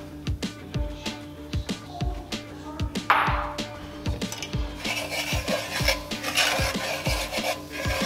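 Flour is stirred into a pan over low heat to make a roux for a pan sauce with sous vide sirloin; rhythmic, close scraping strokes repeat about twice a second over a soft sizzle.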